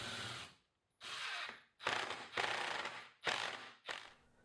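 Screws driven in with a power driver to fix cut 3U rack rails onto left and right bars of a DIY switch rack, several close, loud whirring bursts separated by short pauses.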